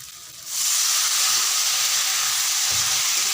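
Water poured onto jackfruit frying in a pan, a sudden loud hissing burst of steam and sizzle that starts after a short quiet moment and stays strong and steady to the end.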